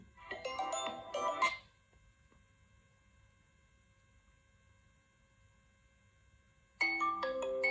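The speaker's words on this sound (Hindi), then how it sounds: "ये रिंग वॉल्यूम" A vivo Y03 phone plays its ringtone in two short bright melodic bursts, one at the start and one near the end, separated by several seconds of quiet electrical hum.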